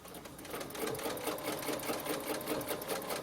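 A sewing machine stitching a quilted pillow design along a template, running at a fast even rhythm, close but fairly soft, without talk.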